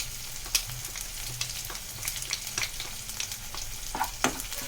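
Sliced onions sautéing in a pan with chili powder for a Tirunelveli-style vendakai kara kuzhambu, a steady close sizzle and frying crackle with occasional stirring scrapes, no talking.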